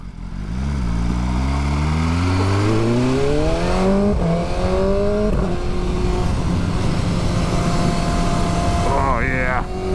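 A BMW M1000R naked sport motorcycle accelerates hard up a hill climb, its engine rising in pitch through several quick-shifted gears with brief drops between, loud and close under wind rush.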